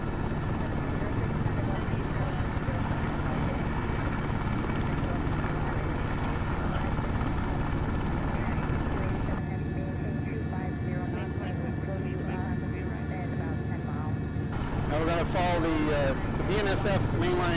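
Helicopter in flight low over Los Angeles rail lines, a steady loud rotor and engine drone filling the whole stretch with no break, heard from inside the cabin under radio chatter.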